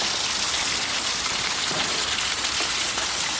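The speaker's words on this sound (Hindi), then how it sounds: "आप लोग देख सकते हो कितनी तूफ़ानी बारिश गिर रही थी" Heavy stormy rain pours down during a drive along NH66 in the Konkan region, a dense, loud, continuous hiss of drops hitting surfaces with no voices.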